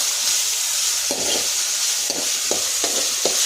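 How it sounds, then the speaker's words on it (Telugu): Chicken pieces and onions frying in a pan on a home stove, giving a steady close sizzle with a few stirring scrapes and clinks, no talking. "చికెన్ ఉల్లిపాయలు వేసాను. ఉల్లిపాయ అన్నీ వేస్తాను."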